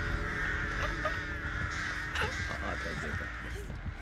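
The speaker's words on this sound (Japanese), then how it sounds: "やばい、カラスが、 カラスだらけ になってる" Crows cawing in the Dead by Daylight video game, repeated harsh caws over a steady game ambience with a low rumble, while a voice talks briefly over them.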